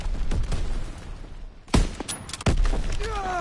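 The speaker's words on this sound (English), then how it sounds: "Throwing grenade!" A grenade blast in a multiplayer shooter game lands as a heavy, close boom, with sharp gunfire cracks and thuds around it in a short, busy burst.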